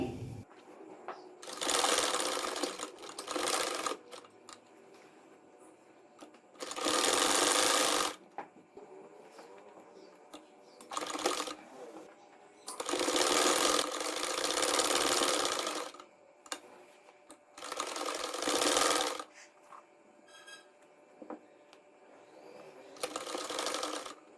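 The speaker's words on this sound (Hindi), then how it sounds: "अब मैं इनको सिलाई लगाऊंगी।" A sewing machine stitches a zigzag design on a trouser poncha (hem) in several loud, steady whirring runs of a few seconds each, with short pauses between bursts.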